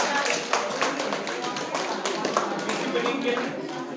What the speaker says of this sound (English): Okay, clap your hands.